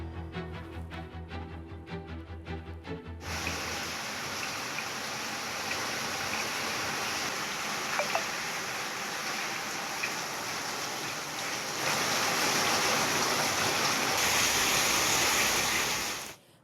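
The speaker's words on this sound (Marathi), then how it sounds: "मध्यरात्रीपासून भिवंडीत पावसाच्या सरी बरसत आहेत" Heavy pre-monsoon rain in Bhiwandi, a loud, steady wash of rainfall pouring down close by, growing denser toward the end after a brief rumbling opening.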